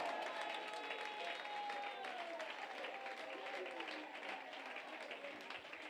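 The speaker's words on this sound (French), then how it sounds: "Apportons les acclamations au Seigneur." Congregation at a church convention in Yopougon applauding and cheering in praise, a steady, dense wash of clapping and acclamations with voices mixed in, sustained and fairly distant throughout.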